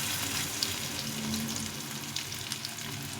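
Cabbage pakoras made with fish oil fry four at a time in shallow oil, giving a steady, soft sizzle that holds evenly throughout with faint clicks, and no talk over it.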